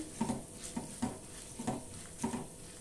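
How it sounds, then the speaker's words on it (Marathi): Green chillies and urad dal roasting in a pan for a Madras-style chutney, soft sizzling with a few quiet scraping stirs at a steady rhythm, faint and close. "मिरच्या, थोडी उडदाची डाळ भाजू देऊया।"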